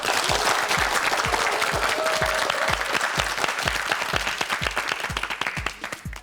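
Studio audience applause on a Korean TV quiz show, a steady, dense clapping that fills the whole stretch at close range, with no talk over it and a slight thinning at the end.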